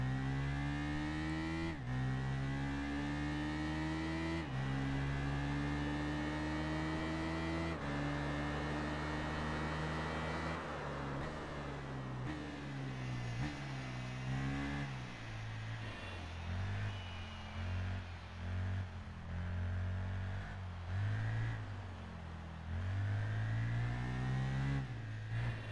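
Motorcycle in the PS2 racing game Tourist Trophy, its engine droning continuously and rising and falling in pitch through gear changes and revving, loud and close throughout.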